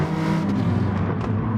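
A race car's engine at full throttle in Gran Turismo Sport at Fuji, a close, steady high-revving drone that holds level through the short stretch.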